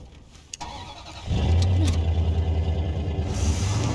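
A truck engine in Life is Strange Before the Storm cranks and catches, then settles into a loud, steady low rumble that continues to the end.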